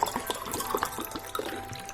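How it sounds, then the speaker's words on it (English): Water is poured into a glass, a short close gurgle of trickling and splashing with small bright plinks, the pitch rising slightly as the glass fills. "I'm gonna start with pouring myself a glass of water."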